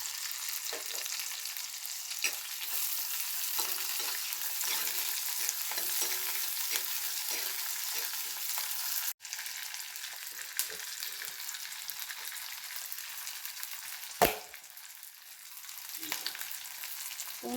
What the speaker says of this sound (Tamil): வெங்காயம் நல்லா வதங்கினதுக்கப்புறம் உரித்து வச்சுருக்க பூண்டை அதில் போட்டுடலாம்.